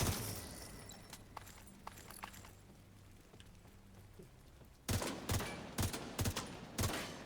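Rifle shots ring out in a video game, a cluster of sharp, fairly loud reports in quick irregular succession after a quiet stretch of low ambient noise and faint clicks.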